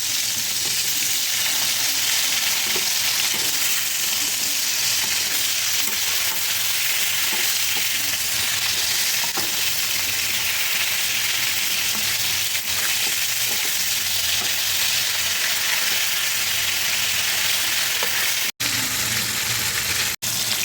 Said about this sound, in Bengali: এইগুলোকে আমি এবার ভেজে নেব